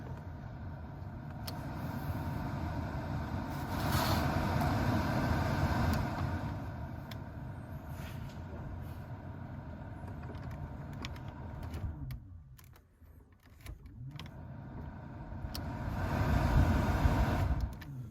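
The heater blower motor of a 1970 Dodge Monaco runs as a steady whirring hum that shifts in strength as speeds change. It drops briefly near the end, then swells louder again. No voices are heard.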